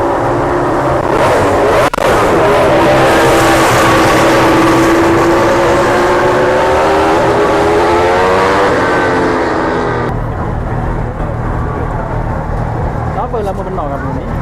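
MotoGP motorcycles scream past a trackside spectator, very loud and close. Several overlapping engine wails sweep down in pitch as the bikes go by, then drop sharply to a lower rumble, with people talking over the noise.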